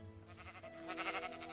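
A sheep in the Minecraft modpack Feed the Beast gives a single drawn-out bleat, quiet and alone over a faint background.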